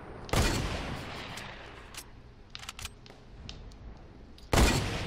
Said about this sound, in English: I'm trying to shoot at these guys.